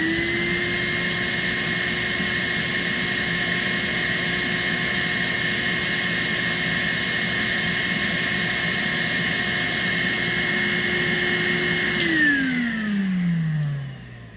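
Numatic Henry NRV 200 vacuum cleaner, a Nacecare model, runs with a steady loud motor whine and airflow roar for about twelve seconds, then winds down with a falling pitch as it switches off.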